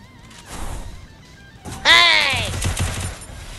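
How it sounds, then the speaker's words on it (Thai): An RPG rocket launcher fires in the mobile shooter Free Fire: one loud, sudden blast with a screeching whoosh, then a rumbling tail, after a brief muffled voice. "เนี่ยพี่ยิง RPG ดูน้อง"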